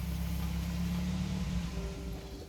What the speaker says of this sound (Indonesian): Ini masih dengar suara mobilnya kedengaran ya